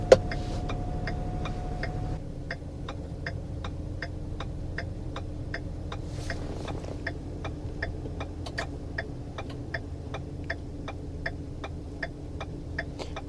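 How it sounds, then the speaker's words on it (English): A 2012 Ford F350 truck engine idling steadily with a regular ticking clatter repeating throughout, a low hum underneath, close and without talk. "Key on, engine running."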